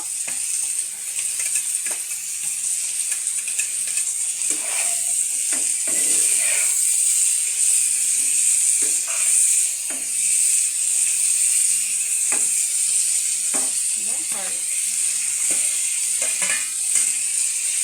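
Potatoes sizzle steadily in hot oil alongside bitter gourd, a bright continuous frying hiss with scattered scraping stirs and clicks of a spatula against the pan, close and without talk.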